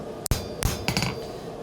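Three sharp ringing hammer blows planish forged Damascus knife steel on an anvil, close and metallic, spaced about a third of a second apart, with brief clinks after the last.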